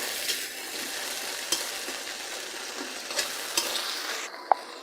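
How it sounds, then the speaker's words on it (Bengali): Ginger-garlic paste and onion sautéing for an okra curry, a steady soft sizzle with a few sharp scrapes and clicks of stirring scattered through, close and fairly quiet throughout. "পেঁয়াজ রসুনের কাঁচা গন্ধ যাওয়া পর্যন্ত আমরা কষাতে থাকবো"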